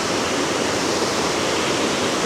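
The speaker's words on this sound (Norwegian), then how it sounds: "Skal vi gå og se på den fossen, Brum?" A small waterfall pouring into Nærøyfjorden in Norway gives a constant, dense rush of falling water, steady and close with no pauses or voices.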